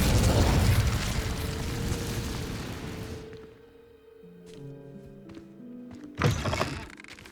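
In the Hogwarts Legacy video game, the Incendio fire spell gives a loud, roaring burst that fades after about three seconds. Soft musical tones follow, then a second sharp thump near the end.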